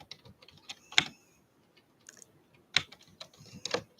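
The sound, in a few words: computer keyboard typing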